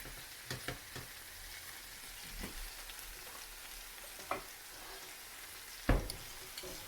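Chicken pieces frying in a pan to a light brown, giving a soft, steady sizzle with a few scattered clicks and one sharper knock, faint and distant-sounding, with no voices.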